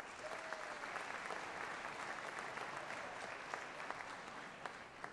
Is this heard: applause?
yes